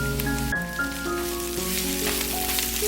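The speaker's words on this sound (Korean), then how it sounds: "고춧가루 반 스푼도 넣고 함께 볶아주세요" Cabbage stir-fried in a pan with Chapagetti powder soup and chili flakes, giving a steady close sizzle and crackle throughout, with sustained musical tones running underneath.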